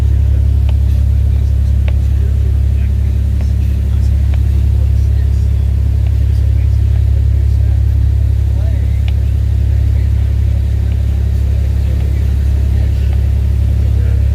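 The engine of the fishing boat Sea Angler in Bodega Bay gives a loud, steady, deep rumble that runs unbroken throughout, with faint voices beneath it.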